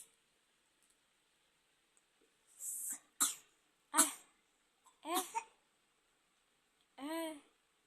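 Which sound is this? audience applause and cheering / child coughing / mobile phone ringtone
child coughing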